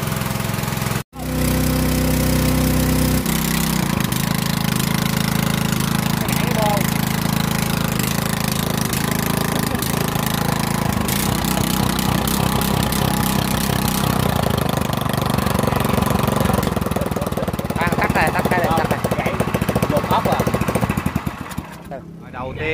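The engine of a 230-ton cargo boat built in 2022 runs loud and steady up close while the boat pumps out water, with a continuous throbbing drone and mechanical clatter from start to finish.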